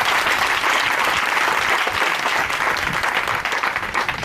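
A church congregation claps together at a Sunday worship service, a loud, dense, steady wash of applause that goes on throughout and fades slightly near the end.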